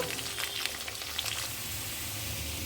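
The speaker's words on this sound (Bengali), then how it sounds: "ডাটাগুলো তো একটু শক্ত হয় তাই একটু কষিয়ে নিচ্ছি ডাটাগুলো" Broccoli stems and potato fry in a pan with a dense, close hiss and a few faint crackles, steady for a couple of seconds and without talk.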